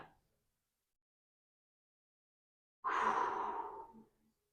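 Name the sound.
slow deep yoga breathing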